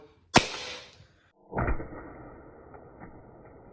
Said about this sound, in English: 5-foot face drop on the iPad 7 in 3, 2, 1